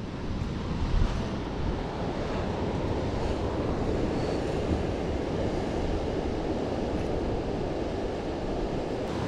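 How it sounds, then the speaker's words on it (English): Ocean surf crashes on a shore in a steady, loud roar of breaking waves mixed with wind buffeting the microphone, continuous throughout with no talk. "look at these waves"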